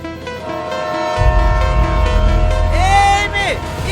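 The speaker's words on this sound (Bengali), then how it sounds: "এই মেয়ে, ট্রেন আসি" A train rumbles in with a low, loud roar that builds after a quiet start, overlaid by a rising horn or whistle blast and a shouting voice, in a rural village setting.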